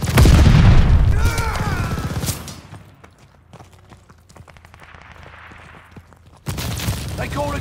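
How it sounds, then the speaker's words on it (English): A stun grenade blast in a shooter video game, a loud close boom with a rumbling burst at the start, followed by quieter clatter and a renewed loud burst near the end. "Tossing stun grenade"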